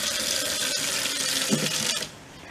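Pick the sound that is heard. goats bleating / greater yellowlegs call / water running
water running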